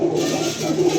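A pair of pigeons coo steadily at close range, a soft throaty rolling call that repeats through the moment with no voices over it.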